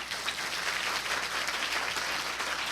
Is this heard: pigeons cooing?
no